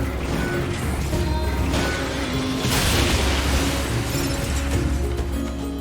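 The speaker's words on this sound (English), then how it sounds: "Oh well, that is a shockwave. Okay. I mean, it's more like an explosion." A powerful shockwave explosion booms in the video game NieR: Automata, a loud sustained rumbling blast with crackling debris and mechanical clatter, swelling midway and rolling on throughout.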